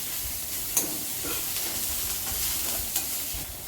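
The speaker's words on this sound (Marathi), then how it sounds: "व्यवस्थित परतून घ्या" Okra thecha is stir-fried in a pan, giving a continuous close sizzle and hiss with a few light scraping stirs and faint clicks, and no one talking.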